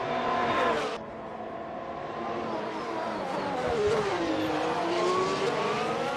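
A Formula 1 race car in a video game of the Azerbaijan Grand Prix at Baku City Circuit screams along with its engine note rising and falling as it shifts and revs, steady and fairly close.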